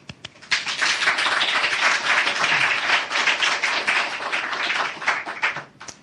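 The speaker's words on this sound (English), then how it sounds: "It's applause now" An audience claps to welcome a guest speaker at a CFI Teaching gathering in Jerusalem. The applause rises quickly, stays full and steady for about five seconds, then tapers off near the end.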